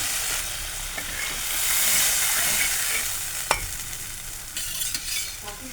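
A little water splashed into a hot pan of cooking vegetables hisses into a rising sizzle, followed by stirring and one sharp utensil knock, close by with no talking.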